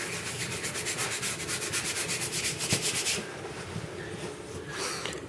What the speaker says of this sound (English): See how that's kind of scrubbing it away, loosening the old finish.